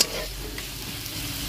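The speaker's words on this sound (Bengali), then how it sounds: "তো আমি এবারে পেঁয়াজটাকে একটু ভাজা ভাজা করে নেব।" Chopped onions with torn green chillies frying in a pan, a brief close sizzle with stirring scrapes, steady and fairly loud after a sharp start, no voices.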